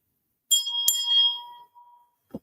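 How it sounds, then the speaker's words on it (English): A small "Ring for a Kiss" bell is struck twice in quick succession, each bright metallic ring shimmering and decaying over about a second before a brief soft knock. "My beautiful wife Suzanne found these two beautiful bells that say "Ring for a Kiss.""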